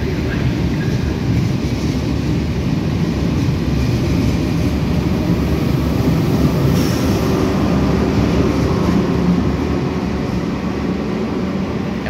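A TGV Reseau high-speed train departs on its service from Milano Porto Garibaldi to Paris Gare de Lyon, giving a loud, steady low rumble and roar that holds evenly throughout with no voices.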